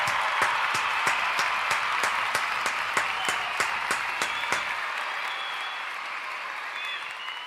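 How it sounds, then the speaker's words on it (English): A small group claps steadily for a guest named Adam, sharp regular claps close to the microphone for about five seconds, then stopping and leaving a faint hum. "Another round of applause for Adam"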